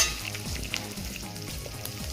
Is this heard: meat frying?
yes